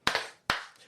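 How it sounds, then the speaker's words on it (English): Two sharp, close hand claps for a podcast guest, the first with a quick double onset, the second following about half a second later, each ringing briefly in the room. "2 claps and enthusiastic woo for Eric Ortega."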